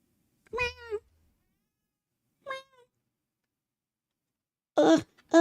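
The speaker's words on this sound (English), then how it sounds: "there's a cat outside the door" Cat meowing in a video game: three separate meows with pauses between, the last one louder and more strained, each standing clear against silence.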